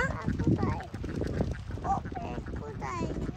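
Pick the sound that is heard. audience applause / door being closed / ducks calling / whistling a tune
ducks calling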